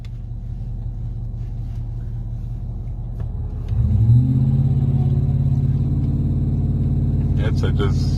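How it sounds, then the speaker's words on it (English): Truck engine idling with a steady low rumble, then rising sharply into a revving drone partway through as the vehicle starts spinning donuts on open ground, loud and close, with a faint high whine near the end. "Hey, we can do donuts right here because people have already done them."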